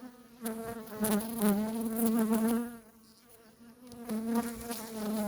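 Many bees buzz close by around hive frames in a dense, wavering drone, briefly thinning before swelling again.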